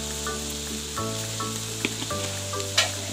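Chopped banana flower fries quietly in a pan with a pinch of turmeric, giving a soft, continuous sizzle with a few light scrapes and clicks. A steady tonal hum sits underneath the whole time.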